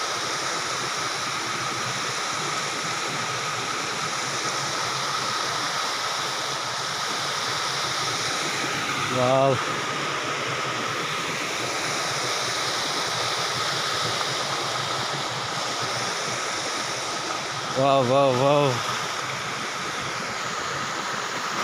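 Jodumamidi waterfall near Paderu running with low water, a steady broadband rush of falling water heard close and continuous, with a man briefly exclaiming in wonder twice over it.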